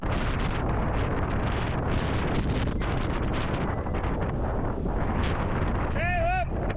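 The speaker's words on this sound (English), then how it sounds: "Wow, this wind is something else." Strong outdoor wind roars steadily and loudly into the microphone, buffeting throughout with heavy low rumble, near a combine harvester being repaired at the roadside, with a brief whistle-like tone near the end.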